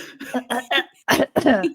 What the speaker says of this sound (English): And I'm going to cough now.